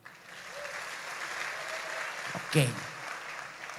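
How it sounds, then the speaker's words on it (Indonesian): A stand-up comedy audience in Tegal, Indonesia, claps steadily under a brief spoken word, with a louder burst of voice and noise partway through. "yang bangga jadi orang Indonesia, coba tepuk tangan"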